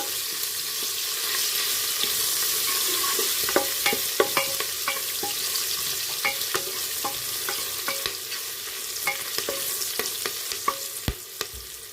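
Ginger and green chili pieces cook in a pan for veg khichdi, a steady hiss of frying broken by sharp little pops and crackles that grow more frequent, with no voices.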